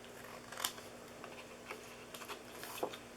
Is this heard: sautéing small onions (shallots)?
no